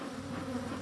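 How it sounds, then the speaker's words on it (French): An agitated colony of black bees hums in a dense, steady, close drone that fills the moment without pause or voices. "Ces abeilles en furie là."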